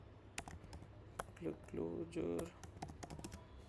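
Rapid keystrokes on a computer keyboard while writing Swift code, a quick uneven clatter of clicks with a short run of faster typing in the middle, fairly close and moderately quiet.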